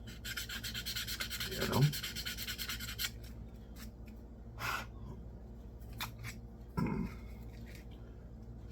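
Hand sanding on a wooden tobacco pipe under restoration, soft intermittent rubbing strokes close to the mic with a few louder scrapes; a voice briefly says a few words.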